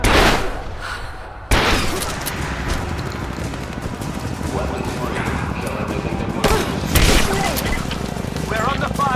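Video game gunfire, a fusillade of shots at the edge of a village in Rise of the Tomb Raider, crackles through dense battle noise with louder bursts and crashes, while voices shout over the fighting.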